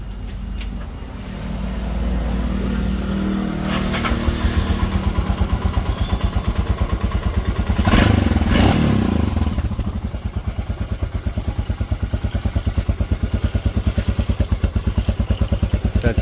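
A Royal Enfield Himalayan motorcycle, just fitted with a new clutch, starts and settles into a steady, close thumping idle with a rapid regular beat, swelling briefly louder before easing back.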